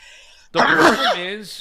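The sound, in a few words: sneeze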